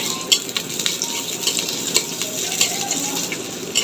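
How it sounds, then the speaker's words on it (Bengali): Half an onion sizzles in hot oil in a kadai, a continuous bright hiss broken by occasional spoon scrapes and small pops, close and moderately loud. "তেল গরম হয়ে গেছে, আমি এখানে দিয়ে দিলাম একটা পেঁয়াজ"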